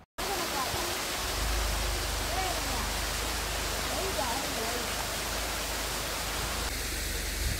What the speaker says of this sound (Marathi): हा छोटासा धबधबा लागलाय